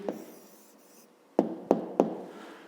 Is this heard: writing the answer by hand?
yes